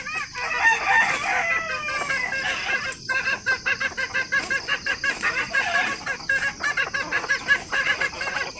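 Native chickens in a farm net enclosure, with repeated clucking and several loud rooster crows close by, layered over a busy, continuous flock background.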